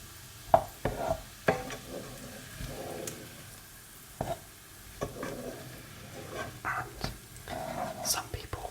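Lamb mince for a shepherd's pie is stirred in a pan, with soft scraping and clinking spoon strokes in irregular bursts over a faint sizzle, while a person whispers close to the microphone.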